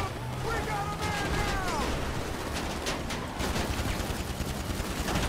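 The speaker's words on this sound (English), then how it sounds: "I'm shooting the garbage." Video game gunfire during a gang attack, with bursts of shots from a player firing at garbage, heard as dense, continuous crackling over game noise throughout.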